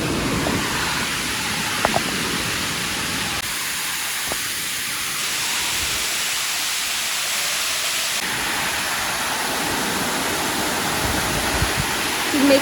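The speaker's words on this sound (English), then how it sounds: "think this is a stream crossing." Steady broadband rush of water flowing over rocks at a stream crossing on a western North Carolina hiking trail, continuous and close, with a few brief knocks and no talk.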